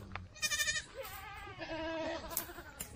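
Himalayan goats and sheep from a herd of several hundred bleat repeatedly nearby, with overlapping wavering calls rising and falling against an outdoor background.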